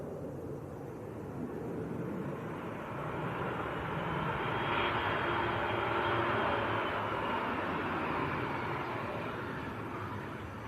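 A CRJ regional jet passes at Manchester Airport, a steady, moderately faint engine rumble that swells gently around the middle and then tapers, heard alone with no voices.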